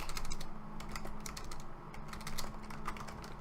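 Rapid typing on a computer keyboard while naming a new folder, a steady stream of close, crisp key clicks with short pauses, no voices.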